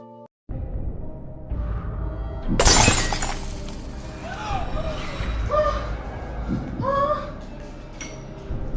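Something shatters loudly indoors in a family home, a burst of breaking glass-like crash standing out clearly, followed by continued household sounds and people's voices talking nearby.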